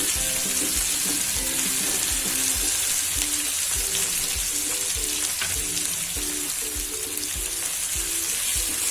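Okra and potato dry sabzi sizzling and frying in a pan while being stirred, a steady loud hiss with soft rhythmic scraping of the spoon through the vegetables.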